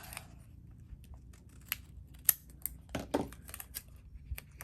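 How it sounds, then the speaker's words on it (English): Scissors snip through paper while a weekly planner is being set up, giving a few quiet, close, separate cuts spread over a soft low background with no talk. "And then I'll just cut this off."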